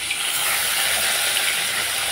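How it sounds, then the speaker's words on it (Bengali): Pabda fish fry lightly in hot oil, giving a dense, even hiss of sizzling that stays loud and close for the whole short stretch. "এখন আমি মাছগুলো হালকা করে ভেজে নিচ্ছি এক এক করে।"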